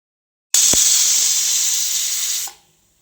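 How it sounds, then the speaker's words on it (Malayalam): A pressure cooker cooking kachil (yam) erissery lets off a sharp, loud steam hiss that starts abruptly, holds steady for about two seconds with a small knock near the start, then cuts off. "ഇനി നമുക്ക് കുക്കർ അടച്ച് വെച്ച് കൊടുക്കാം. എന്നിട്ട് ഒരു 4 വിസിൽ അടുപ്പിച്ച് കൊടുത്താൽ മതി."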